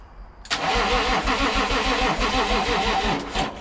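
A car engine turns over on a booster and churns steadily for a few seconds after a click, cranking rhythmically without catching into a running idle.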